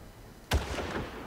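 A single gunshot in the video game Far Cry 1 cracks out with a heavy low boom, then a short rumbling tail over quiet background.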